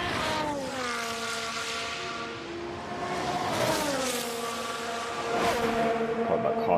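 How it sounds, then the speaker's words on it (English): A Ferrari Formula 1 engine in F1 Manager 22 at the São Paulo Grand Prix screams at high revs, its pitch rising and falling through gear changes, loud and steady throughout. "God, that car sounds so good."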